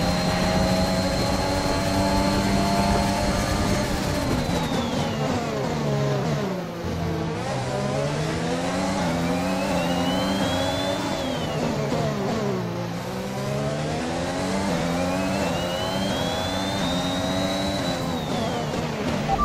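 F1 car engine in the F1 2021 video game at the Azerbaijan Grand Prix, loud and continuous, revving high through repeated upshifts and dropping on downshifts while overtaking, no voices.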